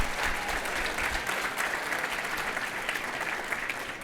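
Sustained applause from an audience at a charity evening event, a dense even wash of clapping hands that fills the room for about four seconds, loud and unbroken.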